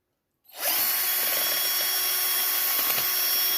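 Screw being driven by a power screwdriver: the motor starts abruptly and runs at a steady high whir for about three seconds, close by.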